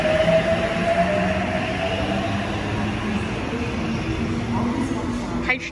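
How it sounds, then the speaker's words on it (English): A T set passenger train pulls into platform 1 at Sutherland station, giving a steady broadband rumble with faint tonal whines that drift as it slows, fairly loud and continuous throughout. "Set T70 arriving into platform number 1."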